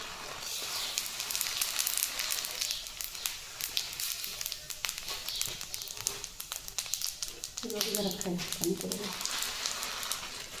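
Fennel seeds sizzling in hot oil in a pan while making kala masala: a steady, fine crackling hiss that runs throughout, with someone talking over it.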